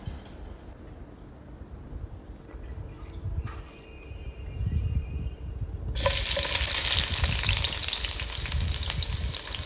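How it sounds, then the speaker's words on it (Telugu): Onions frying in hot oil in a pan while mutton fry is being made, a soft sizzle that jumps to a loud, steady, close hiss as they hit the oil, with no talking. "ఇప్పుడు మనం ఒక ప్యాన్ తీసుకొని దాంట్లో ఆయిల్ వేసుకుని, ఆయిల్ బాగా వేడయ్యాక దాంట్లో మనం కట్ చేసి పెట్టుకున్న ఉల్లిపాయలు యాడ్ చేసుకుందామండి."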